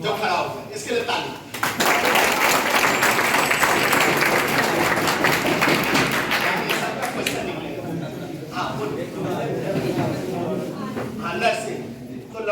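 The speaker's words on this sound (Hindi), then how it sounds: "इसके लिए ताली।" An audience at a career guidance session for class 12 biology students claps for a student who stood up, with a sustained burst of loud applause that fades into scattered claps and talking.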